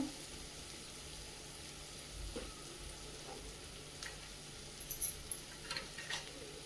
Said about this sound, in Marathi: कांदा चांगला परतून घ्यायचा